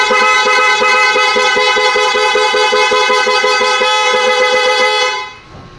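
A Binelli Panarea 125 motorcycle sounds a loud aftermarket horn fitted on a selector switch. The harsh, rapidly pulsing electric blare is very close and continuous for about five seconds, then cuts off.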